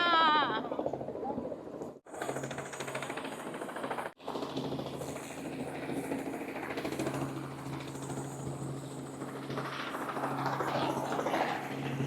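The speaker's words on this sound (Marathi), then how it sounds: "आपण आता हेलिकॉप्टर मध्ये बसलो." Inside a helicopter on a ride in Hawaii, the rotor and engine drone steadily with rapid chopping pulses, loud and close, broken by two brief cutouts; voices speak over it.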